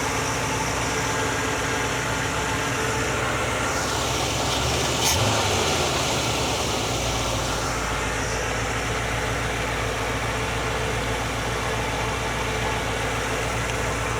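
A car engine fitted with an Edelbrock carburetor idles steadily while warming up, a continuous low mechanical rumble with a faint hiss above it and no talking, holding an even level throughout.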